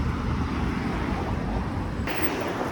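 Steady wind rushes and buffets against the microphone, a constant roaring hiss with no voices.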